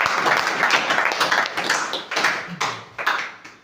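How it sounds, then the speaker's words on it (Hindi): A crowd gives hearty applause for their parents during a talk, a dense, steady wash of many hands clapping for about four seconds that thins slightly toward the end. "अपने माँ बाप के एक जोरदार ताली।"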